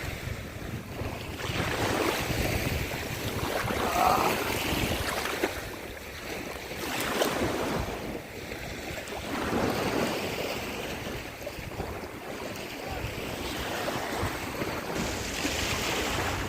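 Sea waves wash over a cold beach, a continuous broadband rush that swells and ebbs in slow surges, mixed with gusting wind buffeting the microphone; no talking.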